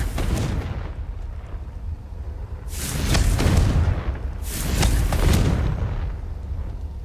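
Confringo fire-blast spell cast in the Hogwarts Legacy video game, two loud booming bursts a couple of seconds apart over a continuous low rumble, with no talking.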